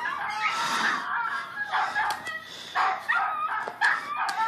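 Small dogs barking and yipping through a tablet speaker, several quick bursts in irregular rhythm at moderate level, with faint room sounds around them.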